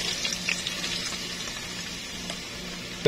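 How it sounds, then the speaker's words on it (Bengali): Onions sizzling in hot oil as frying begins for a restaurant-style chicken brain and liver bhuna, a steady close crackle running throughout with a brief louder clatter at the very end. "তেলগুলো গরম হয়ে আসলো, এরপর আমি পেঁয়াজগুলো দিয়ে দিচ্ছি"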